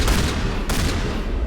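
A loud gunshot rings out during a sniper firefight in Mass Effect 1, a sharp full-spectrum blast with a quick echoing tail, backed by dense ongoing gunfire noise.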